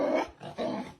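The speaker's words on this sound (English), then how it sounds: "It's always the small dogs like corgis, man." A small dog like a corgi growls in two close, rough bursts separated by a short pause, with no talking.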